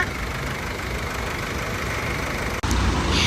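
Chevrolet Cruze 2.0 LTZ turbo diesel from 2012 idling with the hood open, a steady close engine hum and diesel clatter that holds level, with a short dropout near the end followed by a slightly louder rumble.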